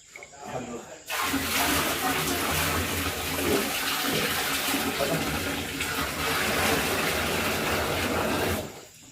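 Water poured steadily into a large container for fermentation, building to about 50 litres; a continuous loud rushing, gushing splash lasting several seconds with people talking over it.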